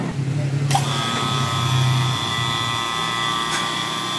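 A vacuum pump evacuates the refrigerant line of an LG two-door inverter refrigerator, giving a steady, loud mechanical drone with a high whine that holds throughout. A low hum and talk sit beneath it.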